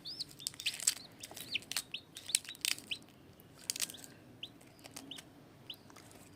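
Newly hatched chicks from eggs set under a brooding hen give quick, high, repeated peeps in an irregular patter, faint and close, with no talking.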